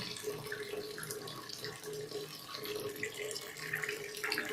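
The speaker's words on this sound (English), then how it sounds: "you could see the water flowing through it, and it comes to the valve, and further it comes to the flow meter placed here" Water rushes steadily through a pipe, valve and flow meter in a small demonstration setup, a continuous close hiss and gurgle like a running tap, holding level throughout with no talk.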